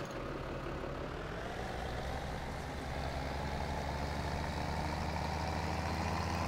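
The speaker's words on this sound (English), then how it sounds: "Take the tractor back." A tractor engine in Farming Simulator 17 drones steadily, a low rumbling hum that stays constant throughout with no talking.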